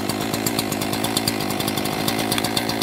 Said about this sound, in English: Pull till it starts. Immediately click the throttle to take the fast idle off to normal idle.